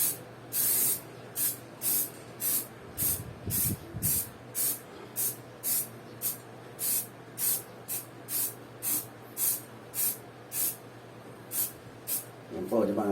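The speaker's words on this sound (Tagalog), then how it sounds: "Kailangan malayo siya. Isang tangkal ng layo ng pag-spray nyo." Rhythmic series of short hissing bursts from a Bosny aerosol spray paint can coating motorcycle mag wheels, about fifteen evenly spaced sprays close to the mic, with brief talk in between.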